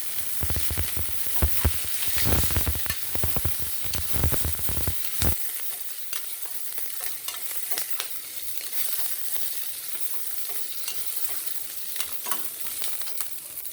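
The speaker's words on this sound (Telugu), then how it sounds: "నెక్స్ట్ కొంచెం వేగిన తర్వాత పచ్చిమిర్చి వేసేస్తున్నాం" Green chillies hitting hot oil in a pan, a burst of loud crackling sizzle with rapid stirring clatter that settles into a steadier, quieter fry, close up with no voices.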